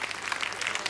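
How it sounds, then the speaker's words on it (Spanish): A quick burst of audience applause for contestant number 8 on a tribute show, dense crowd clapping that is bright and even over its brief run. "Un aplauso para el número 8."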